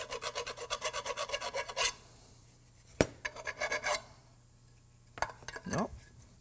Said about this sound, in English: Next thing is I'm going to take a little file.